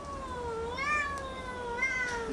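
A cat's meow played back through a phone speaker, a few drawn-out, rising and falling calls, clear and fairly close over a steady background hiss.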